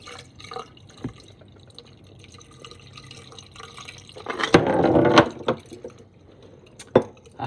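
Water and sludge drain from a sink while a jawbreaker is being dissolved, with scattered drips and knocks, then a louder gurgling rush of draining liquid, followed by more isolated drips.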